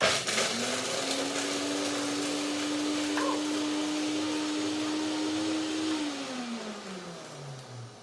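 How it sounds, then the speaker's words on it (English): A regular countertop blender grinds a cup of cashews into powder, its motor whirring at a steady loud pitch for about six seconds before winding down. "You put the cup of cashews into the blender"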